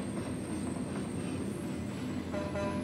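A train rumbles along the track in American Truck Simulator, a continuous dense rolling noise with faint wheel squeal and rattling, steady and fairly close throughout with no talk.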